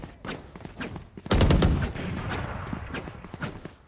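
Valorant gunfire lands a headshot: a loud, sharp burst of shots erupts after quieter clicks and footsteps, then fades into lingering ambient noise.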